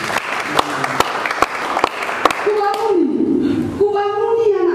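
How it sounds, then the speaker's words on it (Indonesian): Applause at a church testimony service, sharp claps ringing out over a continuous murmur, then a voice speaking and singing with hand claps under it. "Tepuk tangan lagi."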